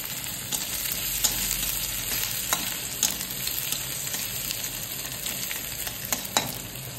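Chopped and whole green chillies with ginger fry in a pan for a chicken stew, a continuous bright sizzle with occasional soft stirring knocks, close and steady, with no one speaking.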